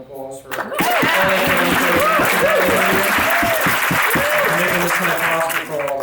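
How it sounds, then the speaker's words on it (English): Wedding reception guests break into loud, sustained applause after a brief pause, dense clapping filling the room for several seconds with voices and cheers mixed in. "I think they're deserving a round of applause for making"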